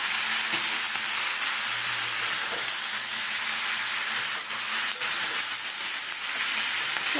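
Chickpeas and chicken frying in a pan with constant bright hissing sizzle and steam, occasional faint stirring taps underneath, steady and close with no voices.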